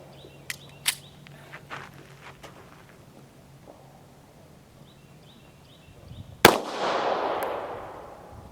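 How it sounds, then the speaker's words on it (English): A Taurus GX4 micro 9mm pistol fires cast 147-grain bullets in a single loud, sharp shot, with a ringing, decaying echo after it. Quieter scattered clicks and handling noises come before the shot. "I'm going to try to bang through 2 more mags of the cast bullet."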